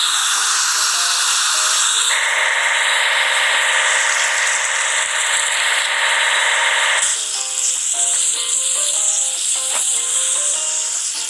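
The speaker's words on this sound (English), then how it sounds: "Hydraulic hammer." A toy hydraulic hammer breaks rocks in a kids' construction play set, giving a loud, continuous electronic buzzing rattle with shifting tones and no speech.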